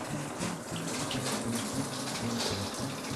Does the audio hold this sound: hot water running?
yes